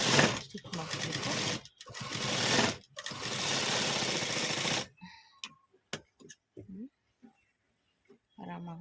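Sewing machine stitching a sleeve seam, loud close whirring in long runs broken by brief stops, followed by quieter clicks and handling of the fabric.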